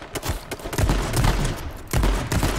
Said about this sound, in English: Rushing him with shotgun.